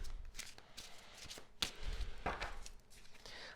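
Tarot cards are shuffled by hand in quiet, brief bursts of riffling and flicking with soft taps between them, close and faint.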